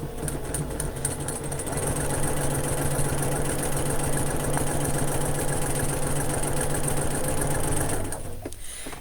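Sewing machine running steadily while stitching a 1/4-inch quilting seam, a continuous close mechanical whir with fast rhythmic needle chatter that stops near the end.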